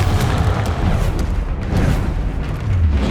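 A Confringo blasting spell detonates in Hogwarts Legacy, a dense, sustained booming roar with heavy low rumble that holds steady and loud throughout, layered with crackling bursts of game combat.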